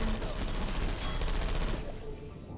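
Rapid turret fire in the video game Portal 2, a dense continuous burst of quick shots that fills the clip and fades at the end, heard alongside game sounds and faint talk.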